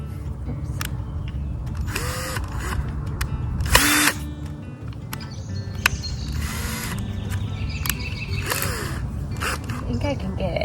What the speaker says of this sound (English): And then I think I can drill the hole.